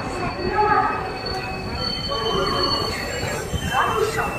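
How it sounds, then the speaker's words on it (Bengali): The Kabiguru Express, train 13015, stands at Bardhaman Junction among a steady rumble of station and rail noise. Voices murmur throughout. "ট্রেনটা একদম রাইট টাইমে এসে দাঁড়িয়েছে।"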